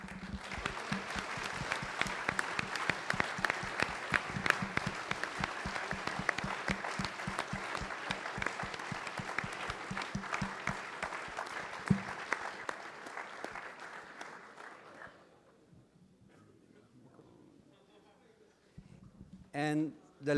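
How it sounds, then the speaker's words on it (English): Audience applause at a programming contest awards ceremony, sustained dense clapping for about fifteen seconds that then fades away, with a few faint sounds afterward. "please give them a really big round of applause too."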